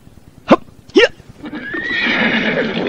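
A horse gives two short sharp snorting calls, then a long rising whinny that swells and holds loud and close, with soft background noise underneath.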